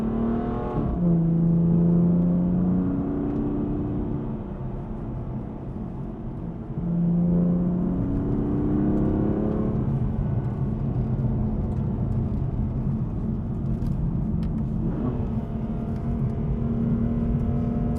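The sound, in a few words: car with dual clutch gearbox accelerating and shifting gears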